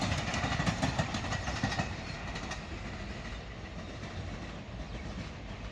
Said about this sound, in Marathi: पहिली ट्रेन गेली. 6ची पहिली ट्रेन आहे ती, डहाणू रोड.